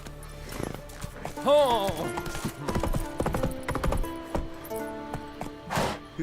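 Hooves of Roach, the horse in the Witcher 3 video game, clopping beneath game music and a voice, with a brief whinny-like call and scattered clinks.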